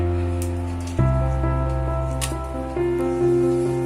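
Dried red chillies sizzle in ghee in a kadai. A soft crackle builds as they hit the hot fat, with a fresh burst of spitting partway through.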